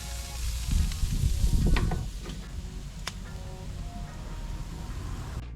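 A thick cowboy ribeye steak sizzles on a grill with a constant close crackle, louder over the first two seconds and then settling to a softer, steady fizz, with a few faint ticks and no talk.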